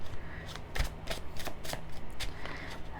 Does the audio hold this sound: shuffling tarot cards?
yes